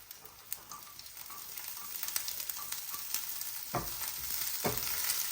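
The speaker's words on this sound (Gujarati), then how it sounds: "અને હવે આપણે થોડી રેડ ઓનિયન પણ નાખી દઈશું." Red onion and green onion frying in a pan for Mexican rice, a steady close sizzle with light stirring scrapes and a couple of louder bursts near the end.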